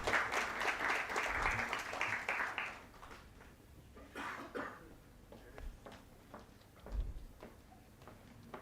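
Applause from the audience at a stock exchange listing ceremony for a jewellery company, a steady patter of many hands in the opening seconds that then thins to a few scattered claps and coughs.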